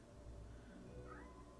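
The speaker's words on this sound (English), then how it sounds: "don't worry if you can hear the cat in the background" A cat meows softly somewhere in the background, a single faint drawn-out call under low room noise.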